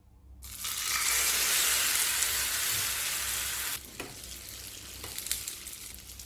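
Egg omelette batter poured onto a hot dosa griddle with a little sesame oil, bursting into a loud, close hiss that holds steady, then eases into a quieter sizzle with a few crackles.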